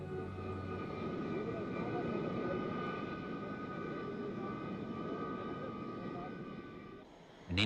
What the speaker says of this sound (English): An Indian Air Force transport plane airlifted the rest of the members and the vehicles from Rangoon to Imphal